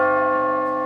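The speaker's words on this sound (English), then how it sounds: "A bell." A single bright bell strike rings out as a short sound effect, with a clear sustained tone and no other sound.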